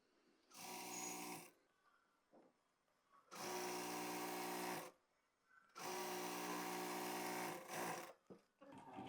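A sewing machine stitches a six-panel palazzo in three loud, steady runs separated by pauses, with brief handling sounds between bursts and no talk.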